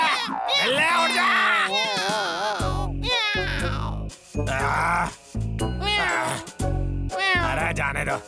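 A cartoon cat lets out a string of drawn-out, wavering meows in several bursts, loud and close, broken by short pauses, with a voice talking among them.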